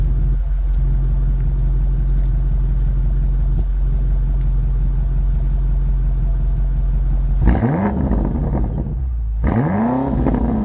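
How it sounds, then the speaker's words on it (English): A 2024 BMW X5 M Competition exhaust idles with a heavy, constant low drone, then two sharp revs roar up and fall away near the end, close and loud. "All right, so let's have a listen to that exhaust."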